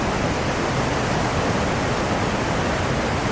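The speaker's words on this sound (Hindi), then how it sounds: "ये पानी का प्रेशर देखें आप कितनी तेज़ी से ये पानी जा रहा है" Fast-flowing river water rushing along the bank of a river at Balakot, a steady, loud, broadband roar that stays constant throughout without pauses or voices.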